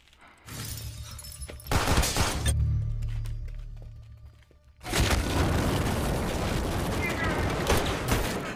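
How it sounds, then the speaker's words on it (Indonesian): Bursts of rapid gunfire erupt in two loud volleys separated by a brief lull with low rumbling, the shots dense and chaotic. "melepaskan tembakan bertubi-tubi"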